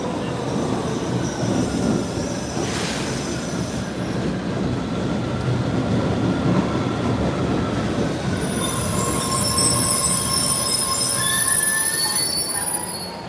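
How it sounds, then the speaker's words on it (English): An old MBTA Red Line subway train pulls into an underground station, a steady rumble of wheels on rail joined by high, piercing wheel squeals that grow and linger toward the end, loud and close. "There's new old Red Line train now arriving."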